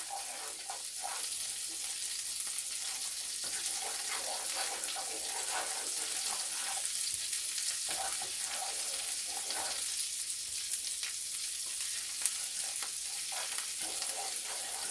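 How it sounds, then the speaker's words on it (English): Flour and milk gravy cooking in a pan while being stirred, a soft steady sizzle with bubbling and scraping of the spoon, moderately quiet and continuous with no talk. "the longer you stir your gravy and let it cook, the browner it's going to get"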